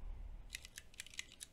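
Soft, close keystrokes on a computer keyboard come in a quick irregular run of about eight taps after a brief hushed pause, with no one speaking.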